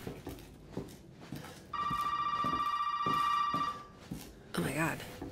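A telephone rings inside a room in the horror game Resident Evil 7, a steady electronic trill lasting a couple of seconds and heard fairly close, with game noises and brief voices around it.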